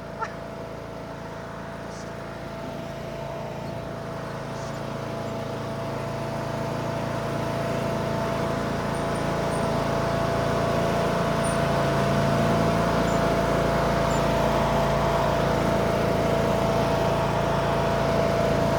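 A John Deere D100 riding lawn mower engine drones steadily close by after an oil change, its hum slowly growing louder and fuller as it runs on without a break.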